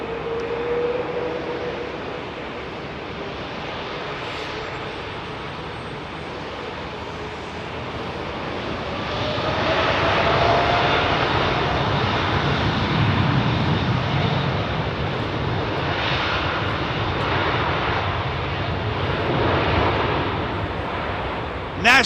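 A Boeing 787 Dreamliner departs from Heathrow at sunset, its jet engine roar building from a distant rumble to a fuller, louder rush midway and holding steady, with no talk over it.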